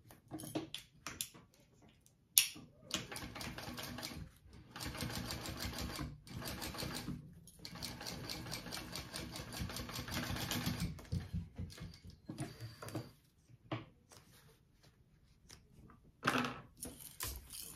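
A sewing machine stitches a crossbody bag lining in quick rhythmic bursts of needle chatter, running for several seconds at a time with short pauses between runs, fairly quiet and close.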